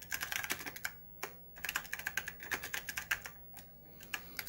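Rapid typing on an Apple //c computer keyboard, a close, crisp stream of individual key clacks in uneven bursts with short pauses between words.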